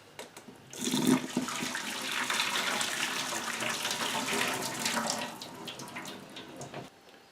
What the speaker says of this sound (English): Boil it until soft and drain.